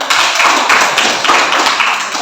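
A classroom of people applauds, a dense burst of close, loud hand claps lasting a couple of seconds with no talking.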